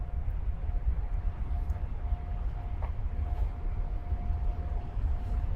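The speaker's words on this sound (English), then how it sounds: "we can hear the train going in the back and see actually as well" A train rumbles in the background at a Russia-Estonia border crossing near Pskov, a low steady drone with a faint sustained tonal whine running throughout, fairly distant and unbroken, with no one speaking.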